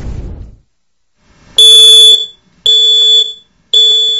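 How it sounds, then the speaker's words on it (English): A smoke alarm sounds three loud, shrill beeps, each about a second long with short gaps, after a brief low rumble at the start. "You expect your smoke detector to warn you in a fire."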